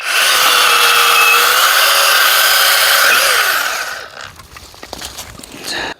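Chainsaw cutting apple tree branches during orchard pruning, loud steady high-pitched motor whine held for several seconds, then cutting off into scattered clunks and rustling.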